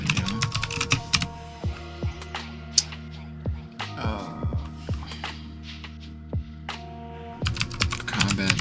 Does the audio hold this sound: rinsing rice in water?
no